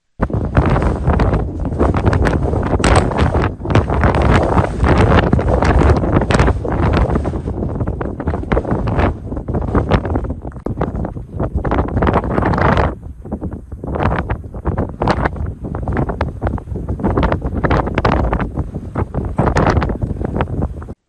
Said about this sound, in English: The wind is quite light, so it's a nice day to be here.